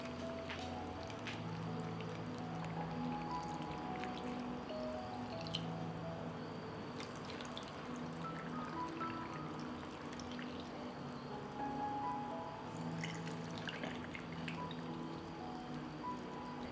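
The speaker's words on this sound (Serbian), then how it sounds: "I na kraju ću napuniti tegle sa vodom." Water is poured steadily into glass jars during home canning, a faint continuous trickling and gurgling stream that runs the whole time with no talking.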